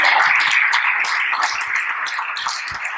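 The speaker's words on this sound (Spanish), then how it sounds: "Denle un aplauso fuerte al Señor." A church congregation claps for the Lord, a dense, steady burst of applause lasting a few seconds, loud and close with no talking over it.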